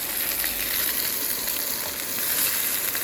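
Sausages sizzle and spit in a pan over an MSR XGK EX camping stove, a steady close crackling hiss with no pauses and nobody talking.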